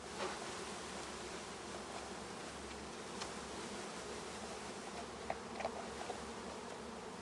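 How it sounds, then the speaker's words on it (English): A package of honey bees being shaken into a hive, a faint steady buzzing hum of many insects with occasional soft knocks and rustles. "I'm going to shake the bees in."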